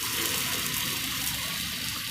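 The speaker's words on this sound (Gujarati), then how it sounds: "પછી એમાં થોડુંક પાણી નાખવાનું" Water pours into a pan while cooking a Gujarati mango and green chili sambharo, making a steady, even splashing rush that runs without a break and with no talk.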